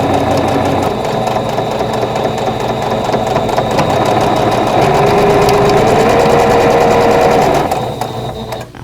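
A sewing machine stitching vintage quilt block pieces together whirs loudly and continuously up close for several seconds, then winds down at the end.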